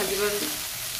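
Singhi fish (stinging catfish) fry in a pan with barely any oil, giving a brief, close, continuous sizzle.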